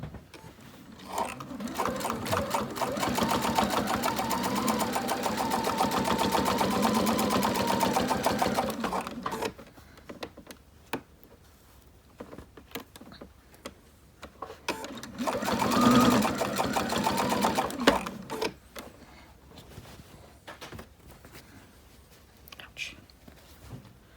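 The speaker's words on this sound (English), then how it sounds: "Let's go to the sewing machine." A sewing machine stitching a quilt seam runs in a steady whirring burst, pauses, then runs again briefly, with a soft voice talking quietly between runs.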